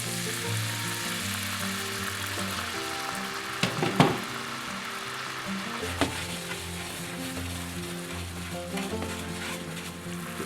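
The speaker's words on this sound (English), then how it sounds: "I'm gonna deglaze the pan," A hot pan is deglazed with a splash of white wine, giving a continuous close sizzle and bubbling with a couple of sharper bursts and clicks of a utensil against the pan.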